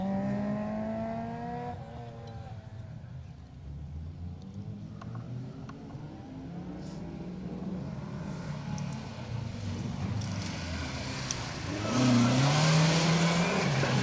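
Vauxhall Nova rally cars on a stage of the 2023 Rali Menai Stages, engines revving loudly and continuously as cars pass, rising to a louder surge near the end.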